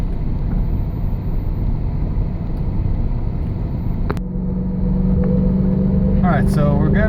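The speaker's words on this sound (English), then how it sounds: "If you can hear the exhaust, there's an exhaust leak on the right side where the manifold meets the downpipe" An S6 car engine idles with its exhaust, which has a leak on the right side where the manifold meets the downpipe, while the car sits in manual mode in second gear. A steady close rumble runs throughout, and a voice speaks briefly near the end.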